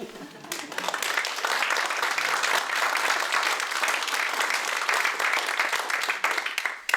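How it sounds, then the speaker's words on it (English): Applause from the audience at a voters' forum, swelling quickly into thick, sustained clapping that stays loud and even for several seconds before tapering slightly. "I'm going to ask for your applause"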